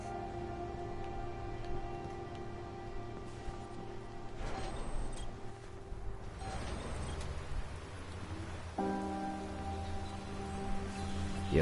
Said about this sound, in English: The rain's understandable, it's weather